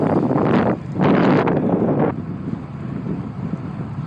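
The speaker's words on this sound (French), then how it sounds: "On a un vent défavorable de côté" Strong crosswind buffets the microphone on a long road bike ride, in loud gusts, roaring then easing into a steadier low rumble, with no voices.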